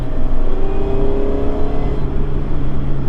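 A car with a VersaTuner N1 engine tune accelerates at part throttle in third gear, giving a steady, loud engine drone and whir heard from inside the cabin, with no talking.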